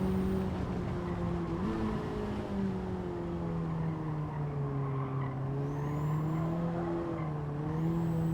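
A race car in Gran Turismo 7 climbs uphill in third gear, its engine drone steady and loud throughout, pitch rising and dipping with gear and throttle changes, with faint tire squeal near the end.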